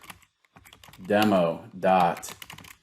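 Typing on a computer keyboard while entering a domain name during Google Workspace for Education account setup; soft key clicks run under a person speaking, with louder voiced stretches in the middle.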